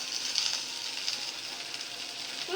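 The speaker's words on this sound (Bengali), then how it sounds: "এখন পেঁয়াজ ভাজা হবে" Onions frying in a pan for a greens dish, a steady, close bright sizzle that holds evenly throughout with small crackling flickers and no talk.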